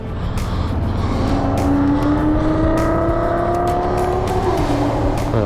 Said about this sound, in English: Man, that is one loud Audi